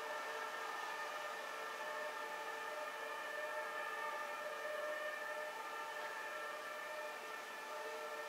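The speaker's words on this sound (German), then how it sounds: "Ganz schön viel Tatütata." Emergency vehicle sirens pass along a street, heard distantly and steadily as layered wailing tones for the whole stretch, with no talk over them.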